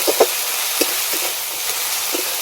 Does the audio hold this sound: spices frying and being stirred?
yes